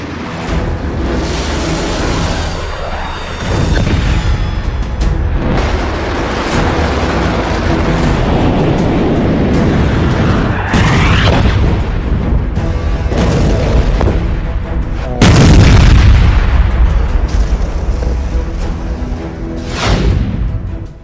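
Explosions in Iranian cities: heavy, loud booms and deep rumbling blasts roll one after another, with sharp onsets standing out against a continuous low roar.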